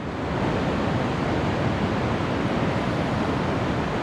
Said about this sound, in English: You can hear the surf behind me.